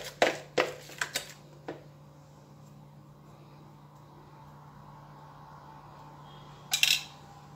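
A few sharp spoon clinks against a bowl while chicken is stirred with garlic powder and spices, bunched near the start and again near the end, with quiet room hum between.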